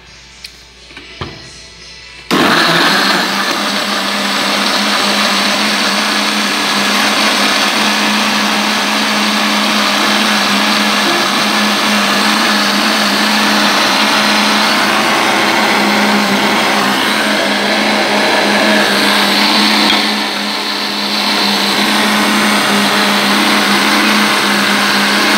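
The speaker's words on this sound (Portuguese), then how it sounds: "Então agora eu vou bater meu suquinho aqui" A kitchen blender starts abruptly and whirs loudly and steadily, blending mango, papaya and carrot juice with honey, its motor pitch dipping briefly near the end.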